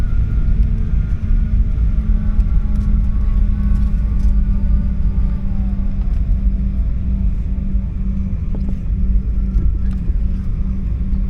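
A loud, steady engine roar with deep rumble drones throughout, heard from an airliner cabin while landing at Entebbe, Uganda, with no voices.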